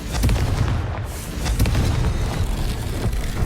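Booming blasts from the Confringo fire spell in the video game Hogwarts Legacy, played on PS4: dense, rumbling explosions that roll continuously with repeated low impacts, loud and close throughout.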